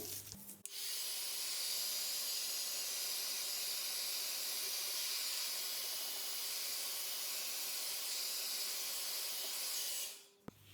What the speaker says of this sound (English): Let's use heat gun again